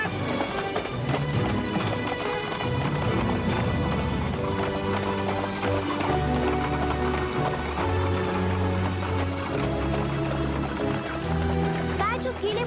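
Horses gallop in a rapid clip-clopping rhythm that runs throughout, loud and close, mixed with music and other sounds from an animated Hindi-dubbed Cinderella episode.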